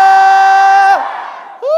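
A church congregation shouts hallelujah in unison during a worship service: one loud, sustained crowd shout that falls away, then voices rise again at the end.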